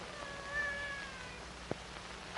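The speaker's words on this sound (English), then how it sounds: "A cat." A cat meows faintly in a quiet indoor room, drawn-out tonal calls early on, then a short louder cry right at the end, with no talking.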